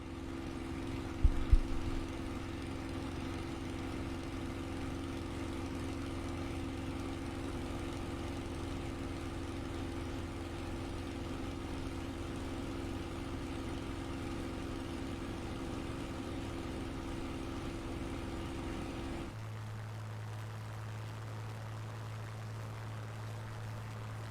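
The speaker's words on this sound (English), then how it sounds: "Let's open up the cockpit. Let's hear those engines." Spitfire engines in a flight simulator game hum as a steady, even drone with the cockpit open, holding constant with a faint knock near the start, then dropping to a lower, quieter tone near the end.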